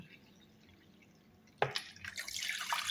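A cup of water poured into a maja blanca mixture starts abruptly after a quiet pause, a close, splashing stream that keeps running steadily to the end.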